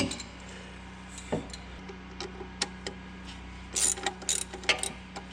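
A ratchet tightens the clutch actuator bolts on a Smart Fortwo, giving short, fast runs of metallic clicking in a quiet garage, with a few louder clanks as the tool shifts on the bolts.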